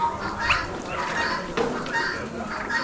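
Poultry at a bird auction, with silver Polish chickens among them, give several short honking and clucking calls over a busy background murmur.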